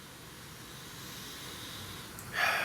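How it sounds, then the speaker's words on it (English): Someone sniffs the aroma of a Trillium Melcher Street New England IPA, with a soft breathy hiss near the end that rises over a quiet background and no talk. "Going to give it the sniff test."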